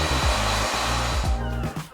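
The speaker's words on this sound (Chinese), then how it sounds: "抹完之后再向前吹干。" A hair dryer blows mousse-coated hair forward while styling a Korean-style 6:4 part, a steady loud rushing whoosh with a low motor hum that wavers slightly as it moves.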